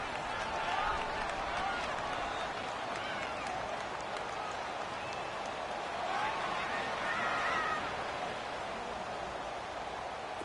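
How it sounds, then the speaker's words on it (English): Steady wash of stadium crowd noise in a football video game during a fourth-quarter third down, a dense continuous roar with faint swells of cheering around the middle and late seconds, with no distinct voices standing out. "the crowd getting into it as we come up on a big 3rd down"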